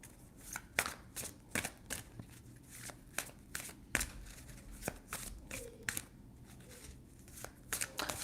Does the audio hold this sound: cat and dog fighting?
no